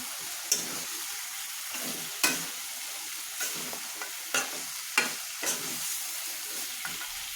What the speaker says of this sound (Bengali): এখন আমি একটু কষিয়ে ঝোলটা দিয়ে দিব